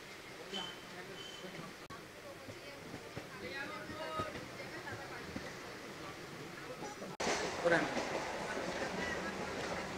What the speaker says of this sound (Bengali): আচ্ছা এইটা একটা ট্রেন যাচ্ছে, দেখি কোন ট্রেন।